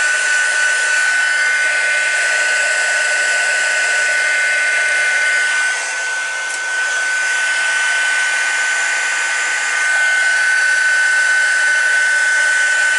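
A heat embossing tool blows steadily onto the back of a handmade floral shimmer card, a loud, continuous hot-air whir with a high whine that dips briefly midway and then returns at full strength.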